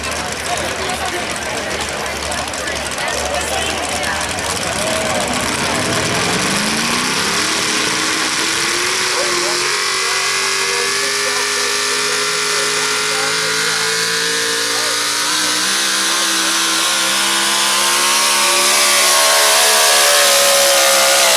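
Pulling tractors roar at a Chisago County Fair tractor pull in Rush City, Minnesota. One engine climbs steadily in pitch as it works down the track, loud and sustained, while a crowd and an announcer talk underneath.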